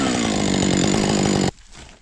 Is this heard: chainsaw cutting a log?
yes